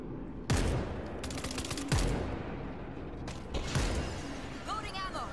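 Gunfire against zombies in the video game Z Pandemic: several sharp shots spaced about a second and a half apart, each followed by mechanical clicks of reloading, with a voice briefly chattering near the end.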